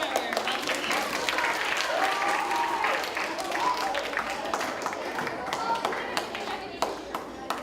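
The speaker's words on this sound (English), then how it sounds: "Let's clap for our volunteers." A group at an autism awareness session claps for its volunteers, a moderately loud spread of hand claps that runs for several seconds, with some voices mixed in.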